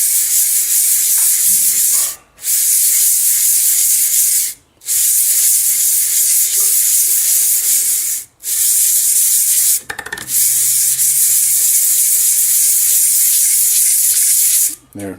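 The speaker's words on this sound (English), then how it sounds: "very lightly move this across this paper to just kind of light sand it" Lawn tractor part being lightly hand sanded on fine sandpaper before moving to 1500 grit, a loud close hiss of steady back-and-forth rubbing broken by a few brief pauses.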